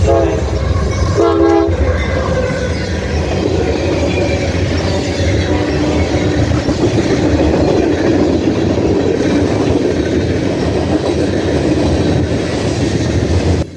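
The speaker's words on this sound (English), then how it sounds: "as that Norfolk Southern train ends, the CSX train comes through." A CSX freight train rumbles past close by, with a loud horn blast near the start and steady clattering wheels throughout.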